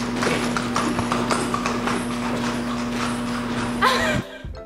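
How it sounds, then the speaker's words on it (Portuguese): A horse's hooves clip-clop steadily and fairly close, with a constant low hum underneath, ending in a short scuffle as the sound cuts off. "O cavalo."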